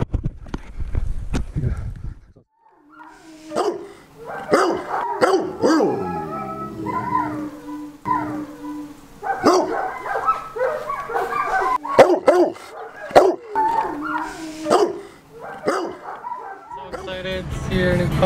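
Old English Sheepdog puppy: a few short yips and barks mixed with whining cries, close by, while people talk and coo over it throughout.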